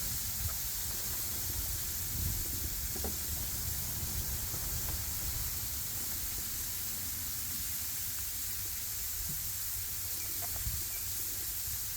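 Shrimp and stir fry sizzle on a Blackstone griddle, a steady broad hiss filling the background, with faint clicks and clatter of utensils nearby.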